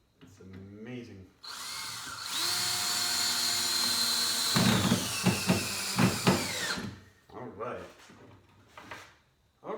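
A power drill whines loudly and close up as it drives screws into a saw table in a few sustained bursts, followed by someone talking amid rustling handling noises.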